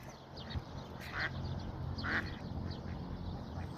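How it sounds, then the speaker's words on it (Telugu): Ducks on a small garden pond give a few faint, distant quacks over steady outdoor background noise. "బాతులు చూడు మామ ఎన్ని ఉన్నాయో."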